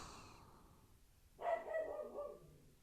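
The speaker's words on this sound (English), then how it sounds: "My dog is going nuts." A dog barks once sharply, then carries on with a rough, drawn-out yelp, fairly close and clear over a quiet room.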